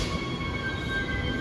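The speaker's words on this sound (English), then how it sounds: "Here we go, here comes a train." A small Perth Airport Line train sounds loud and close at the station platform, with a steady rumbling roar and faint high wheel squeal, no voices.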